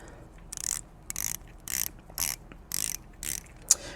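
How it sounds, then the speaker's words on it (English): The bezel of a Cronos L6024 watch clicks as it is turned, in short bursts of crisp ratchet clicks repeated about seven times at an even pace, very close and quiet. "Okay, so let's check the bezel sound."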